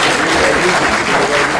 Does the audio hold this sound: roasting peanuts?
no